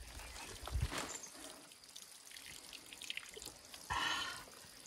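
Water trickles and splashes at Salami waterfall, a soft, steady outdoor flow with occasional louder splashes and faint background noise, heard close by and fairly quiet.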